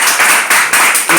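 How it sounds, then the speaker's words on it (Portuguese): Loud, forceful hand clapping from a congregation during an evening church service, in bursts close up. "Com palmas bem fortes."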